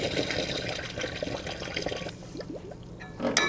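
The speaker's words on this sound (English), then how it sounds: "Go ahead and fill my machine with water." Water pouring from a hose into a batch water ice machine, a steady splashing rush that thins out partway through, ending with a short bump.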